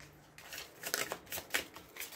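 Tarot cards are handled and shuffled in a quiet room, giving a few soft, quick riffling and papery flicking bursts.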